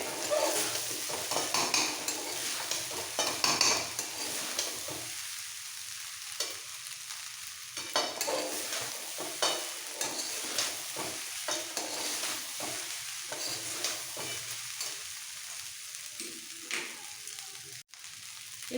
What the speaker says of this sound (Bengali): এভাবে মিক্স করতে করতে রাইসটা ভালোভাবে ভাজা হয়ে যাবে